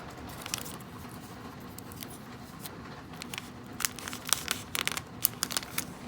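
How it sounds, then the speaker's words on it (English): Rain on a window patters softly in the background, a faint irregular tapping that grows a little denser toward the end, with no voices. "You can kind of hear in the background there's rain on the window"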